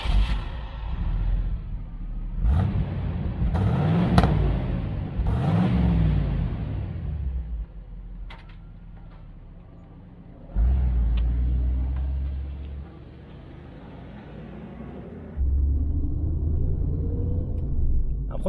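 A 1984 Pontiac Trans Am's engine and exhaust rev up in close, loud bursts that rise and fall, then settle into a lower rumbling idle with a couple of further throttle blips.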